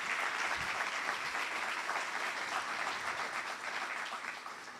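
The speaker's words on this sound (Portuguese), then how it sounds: "Vamos dar um aplauso para a vida dele" A crowd at a professional networking event claps in steady, dense applause, sustained throughout and easing slightly at the close.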